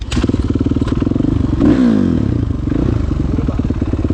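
A Kawasaki KXF450 motocross bike engine runs loud and close, a throbbing four-stroke idle that swells into a brief rev and then settles back to a steady pulsing beat, with no talking.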